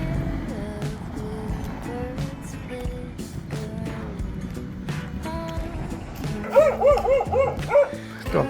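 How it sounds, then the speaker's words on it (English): A dog barking near a lakeside walking route, a string of yapping barks scattered throughout with faint traffic behind, then a louder rapid burst of close barks near the end. "Oh, that's why the dog's barking."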